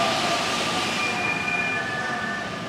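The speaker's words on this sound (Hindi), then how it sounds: "ट्रेन भी देख लो आते हुए" A rubber-tyred Paris metro train pulls into an underground platform, a loud steady rolling rush with high whining tones rising and fading as it slows, close by with no talk.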